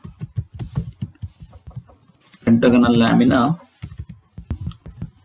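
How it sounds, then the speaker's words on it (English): Computer keyboard typing, a quick run of close, crisp key clicks with a voice speaking between the bursts. "type the problem number 89"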